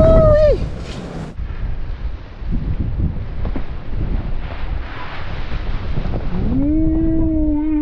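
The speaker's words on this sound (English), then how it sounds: "Wait until you see what the wind is going to do with that cap." Strong storm wind in Norway gusting against the microphone in a loud, steady rush, with a higher whistling or creaking tone rising at the start and returning near the end.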